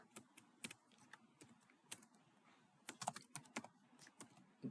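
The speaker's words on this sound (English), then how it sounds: "I'm just typing" Typing on a computer keyboard, quick irregular bursts of soft key clicks, close and fairly quiet, with no talking.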